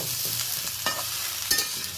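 Vegetables for a light chili-gravy curry (morich jhol) are stirred in a pan over a steady soft sizzle, with a few sharp scrapes of the spatula; no voices.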